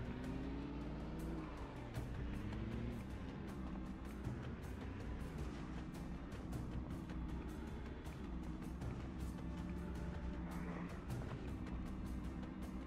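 A car engine in the zombie survival video game Project Zomboid drones steadily throughout, a continuous low rumble with shifting pitch as the vehicle drives, with brief clicking ticks scattered over it.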